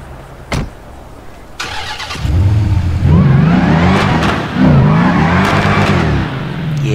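An SRT car in the video game GTA 5 pulls up with a loud engine note that swells and revs in waves after a couple of short bumps, close and without talk.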